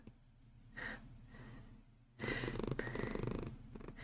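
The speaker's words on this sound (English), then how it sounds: "If the purrs get annoying, tell me and I'll push him off the table." A cat sits purring on a table during a watercolour painting session, with a low, steady rumble that grows louder and more raspy in the second half, close to the microphone.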